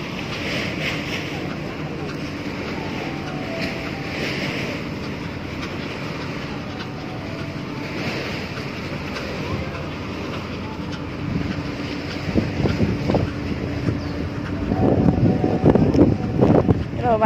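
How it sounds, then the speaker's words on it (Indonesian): Sea waves and gusting wind heard from aboard a boat near a harbour, a steady broad roar with swells and splashes growing louder toward the end, and voices faintly heard. "Ini gelombang loh guys."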